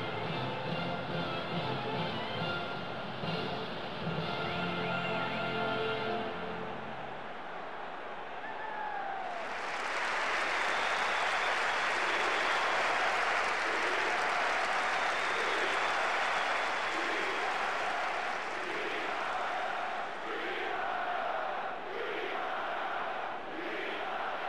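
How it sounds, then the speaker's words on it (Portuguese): A stadium crowd in the PES 2018 football video game, a wash of cheering and applause that swells after a quieter opening and stays steady and broad, like a distant roaring crowd. "Muita torcida de ambos os times para um grande jogo"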